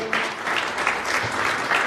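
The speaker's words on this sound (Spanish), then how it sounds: "Da un aplauso al Señor" A church congregation claps together steadily, filling the space with a dense, lively wash of applause.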